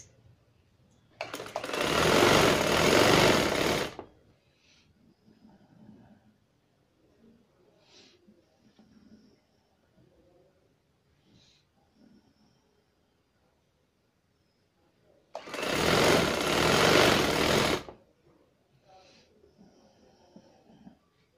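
A sewing machine stitching trouser seams runs in two loud bursts of about three seconds each, separated by quiet handling noises and faint talk.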